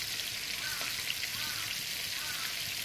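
Finely chopped onion frying in hot oil for a mustard fish dish, a soft, even sizzle hissing steadily throughout, quiet and close with no talking.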